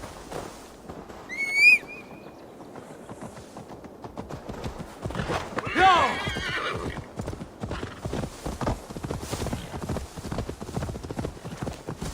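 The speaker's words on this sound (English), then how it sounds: "Now to deliver Magni his horse" A horse in the video game Assassin's Creed Valhalla, with rhythmic hoof clip-clops throughout and two sharp, loud neighs early on, close up.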